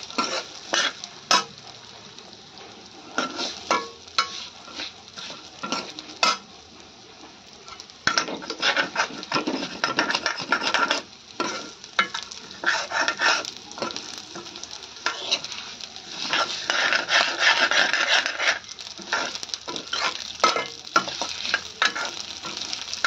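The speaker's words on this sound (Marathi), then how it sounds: "ते चांगले असे ह्याच्यावर तुपावर भाजून घेऊया" Rice roasting in ghee for kheer, stirred in a pan: a constant hot sizzle broken by frequent scraping strokes and clinks of a spoon against metal, loud and close, with irregular rhythm.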